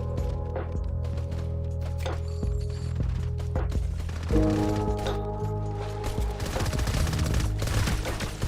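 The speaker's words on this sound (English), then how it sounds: "Is that still the bot shooting that?" Rapid bot gunfire in Fortnite, medium-distance popping volleys over a droning game background, getting denser and more clattering in the second half.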